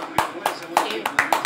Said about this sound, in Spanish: Me rompo las palmas para aplaudirte.